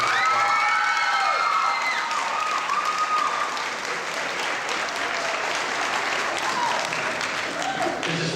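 Graduation audience for an eighth grade ceremony breaks into loud, sustained applause, with scattered cheers and whoops rising early on, many hands clapping steadily and filling the hall before tapering slightly.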